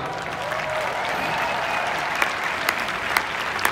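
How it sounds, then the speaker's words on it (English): Audience applause at a live event, a continuous clapping wash with a few sharper individual claps standing out toward the end. "And we should clap for that"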